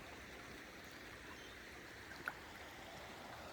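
River water rushes through a sluice at a creek as a faint, steady hiss of flowing water, with one brief knock partway through.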